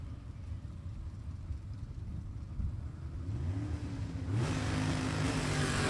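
Manual-transmission drag race cars, among them a Chevrolet Camaro, rev at a stick shift shootout strip, a distant engine drone building and then swelling sharply as a car launches with rising revs.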